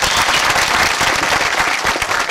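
An audience at a Marathi devotional discourse gives loud, dense applause, steady throughout with many overlapping claps close to the microphone.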